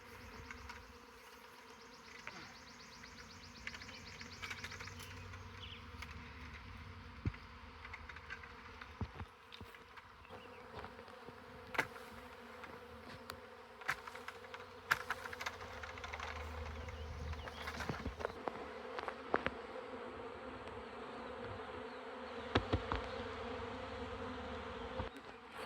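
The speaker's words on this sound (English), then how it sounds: "the bees are liking this here more" A honey bee swarm clusters on a branch outdoors, giving off a soft, continuous buzzing hum. Scattered faint clicks and ticks sound over the drone, which stays quiet and even throughout.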